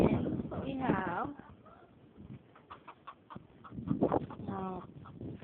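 Backyard chickens cluck in short bursts at moderate distance, with people talking over and between the calls.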